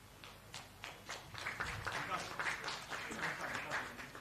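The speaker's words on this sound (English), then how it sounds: "A huge round of applause for this beautiful moment." Audience at a medical cardiology conference gives a burst of applause, scattered claps rising into steady clapping over a few seconds, with a voice talking over it.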